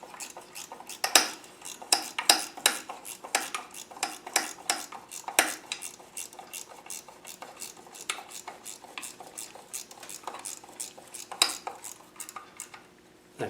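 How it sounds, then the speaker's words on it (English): Screws on a press bar wound down during a Land Rover Defender LT85 transfer box rebuild, a dense run of sharp metallic clicks and ratcheting taps, fairly close and steady with no talk. "So we wind the bar down, wind the screws down"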